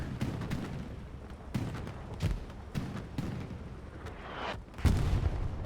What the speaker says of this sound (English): That artillery is going to be right on point here